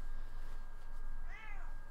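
A large, fat, 20-pound house cat gives a single short meow near the end. It sits over a faint, steady background hum.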